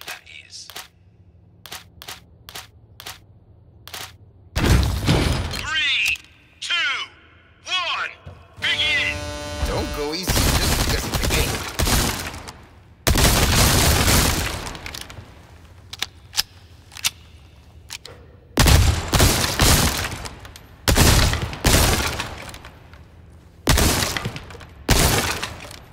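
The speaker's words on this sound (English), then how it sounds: "Use a submachine gun if you want to make quick work of the targets." Bursts of submachine gun fire at the Resident Evil 4 shooting range, loud and close, with crashing hits on targets, sharp single cracks and quieter gaps in between.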